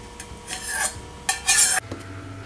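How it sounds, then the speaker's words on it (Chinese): A spoon stirring a pot of simmering cream of mushroom soup: two scraping sweeps against the pot, close and fairly loud, with a quiet bubbling underneath. "炖煮后搅拌一下"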